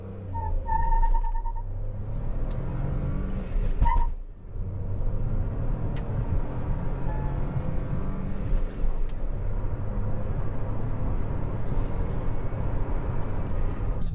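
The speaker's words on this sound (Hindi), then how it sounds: "मोटर रेव किया" A Mahindra XUV300 SUV engine is revved, heard as a steady low mechanical drone for over ten seconds with a few faint whistling tones above it and a brief dip partway through.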